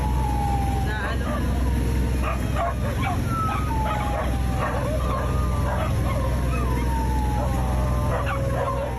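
A pack of abandoned dogs barking, yipping and whimpering on an island in the Philippines, many overlapping barks at various distances over a steady background hum, with a voice talking over them.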